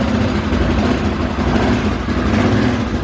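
A cheap ATV engine runs on choke with a loud, steady, low chugging idle, close by and continuous without any voices.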